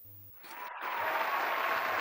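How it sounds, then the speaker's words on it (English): Applause played back by an actor as a prop sound effect during a comedic interview show, a dense patter of clapping that swells after a brief pause and holds steady and fairly loud to the end. "We live for the applause."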